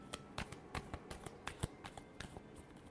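Tarot cards are shuffled close up in a quiet room, a quick irregular run of soft papery riffles and flicks lasting a few seconds.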